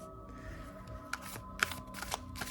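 Oracle cards riffling and snapping together in a few quick bursts, close up, with soft handling noise in between.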